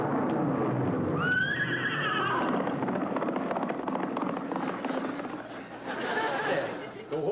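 A horse whinnies once, a loud wavering neigh that rises and falls over a dense background of noise and talking voices.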